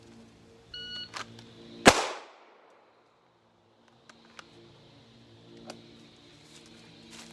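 A single sharp, loud shot from a Walther PDP pistol fired on a 7-yard drill, preceded by a short electronic beep, with a quick decaying ring and a few faint ticks afterward.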